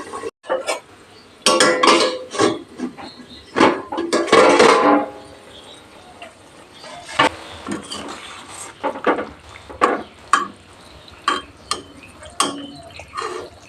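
Clattering metal as a lid is set over a cooking pot of rui fish curry with beans, a series of knocks and clinks of cookware close by, some louder scraping rattles early on and lighter taps after.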